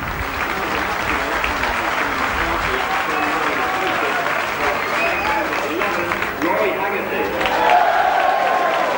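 Steady, sustained applause from a rugby crowd on the popular side of the ground at a St Helens versus Oldham match, a dense wash of clapping lasting throughout with a commentator talking over it.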